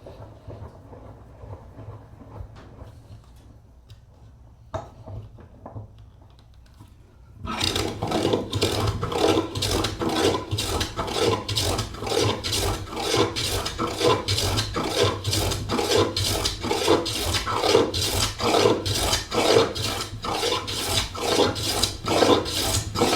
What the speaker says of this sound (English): So I'm going to start off by just planing this one side down smooth.